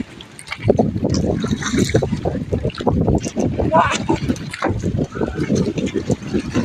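A bangka boat loaded with coconut lumber churns through choppy water with constant splashing, wind buffeting the microphone, and people talking loudly over the noise.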